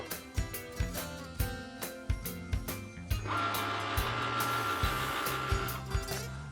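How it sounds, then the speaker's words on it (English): Cricut Maker cutting machine running, a steady motorized whir with rhythmic clicks and thumps as the carriage moves, close and fairly loud, no talk. "Press the flashing Cricut button and off it goes again."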